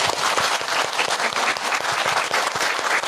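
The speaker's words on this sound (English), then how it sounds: "Oh, another round of applause." Audience applause fills a live talk venue, dense steady clapping from many hands sustained at even loudness throughout, close and full with no pauses.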